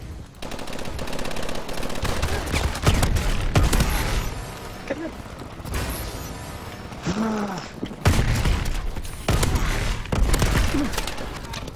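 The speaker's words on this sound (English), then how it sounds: "So I instinctively tried to shoot somebody" Dense gunfire in a Call of Duty match, rapid machine-gun bursts and shots rattling almost without break, with a few heavier booms mixed in.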